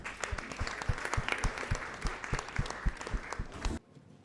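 An audience at a Miss DR Congo pageant show applauds the contestants, with steady clapping and distinct sharp claps throughout before it cuts off abruptly near the end.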